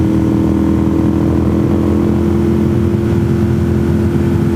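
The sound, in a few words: motorcycle riding on leaf-covered back roads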